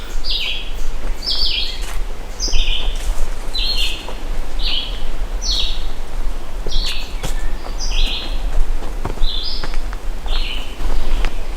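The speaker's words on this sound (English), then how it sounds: "Birds are singing." Several birds sing in a fern-carpeted forest on a warm morning hike, with repeated short chirping phrases at a moderate distance over a steady breezy background.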